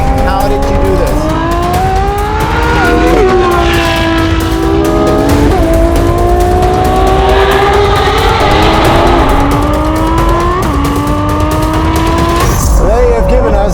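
A Ferrari 12Cilindri V12 fitted with a Novitec exhaust howls loudly through repeated upshifts, its pitch climbing and dropping at each gear change, with a voice talking over the engine.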